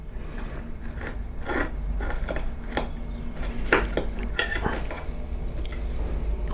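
Metal cutlery scrapes and clinks against a plate while slicing into a dense, buttery homemade cake, with several short taps and clatters close by over a steady low hum.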